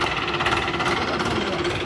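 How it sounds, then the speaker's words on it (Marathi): A tractor engine runs close by at a village yatra in Kokatnur, Karnataka, with a rapid, steady knocking chug and a gritty mechanical rattle that holds constant and loud. "ट्रॅक्टर घ्यायला लागलो लावून."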